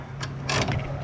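Quick ratcheting clicks from a 1/2-inch ratchet with an extension loosening front engine mount nuts on an Acura/Honda V6, two short bursts over a steady low hum, close and moderately loud.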